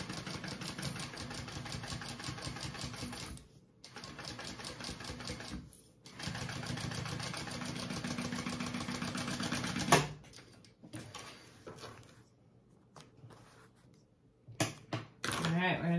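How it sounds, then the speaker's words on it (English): A sewing machine runs in steady bursts, stitching a crossbody bag's lining and exterior together along the top edge, with loud mechanical whirring for several seconds, pauses, then shorter stops and clicks near the end. "we're going to stitch that along the top"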